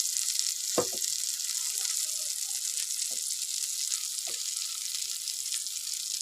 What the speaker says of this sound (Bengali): পেঁয়াজ আর মরিচগুলো ব্রাউন করে ভেজে নেব